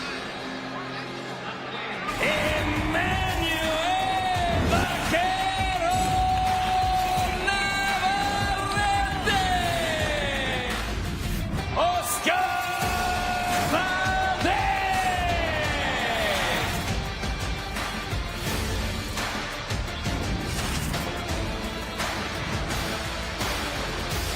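A boxing arena crowd roars before Navarrete vs Valdez, loud and constant, with long rising whoops and yells over the din and a commentator talking over the noise.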